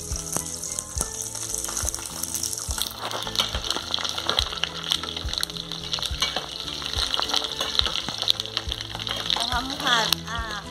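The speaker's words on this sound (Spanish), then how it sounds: "Ya está el aceite caliente. Le vamos a poner los chiles." Chiles frying in hot oil in a home kitchen, a steady close sizzle and crackle running the whole time, with stirring and utensil clatter and a voice speaking over it.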